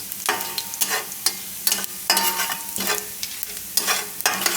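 Cumin seeds hit hot salted oil in a pan on low heat for thecha rice, giving a close crackling sizzle that swells in repeated bursts as the contents are stirred.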